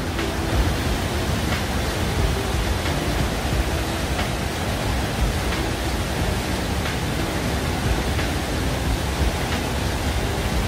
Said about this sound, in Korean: 바로 이렇게 제인폭포가 보입니다.